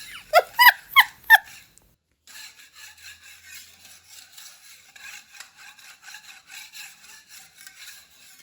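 Scraping old ceiling boards in a room being renovated: a few loud, rough strokes at first, then a long run of softer, steady rasping scrapes in quick rhythm, close by and without talk.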